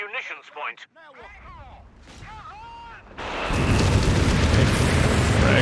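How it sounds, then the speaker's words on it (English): Frag bombs detonate in Company of Heroes 3, a World War II strategy game, as a sudden dense roaring blast that swells and holds loud, following a stretch of quieter game sounds and chirps. "Frag bombs."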